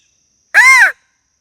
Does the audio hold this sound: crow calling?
yes